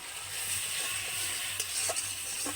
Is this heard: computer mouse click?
no